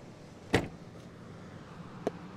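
Power tailgate on a 2023 Chevrolet Tahoe LT opening after two button presses: two short, sharp clicks about a second and a half apart over a quiet background hum.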